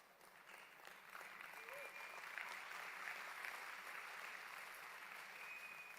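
Steady applause from a seated audience at an Indonesian business presentation, a continuous wash of clapping that swells and holds for the whole stretch, heard from a distance with faint voices underneath.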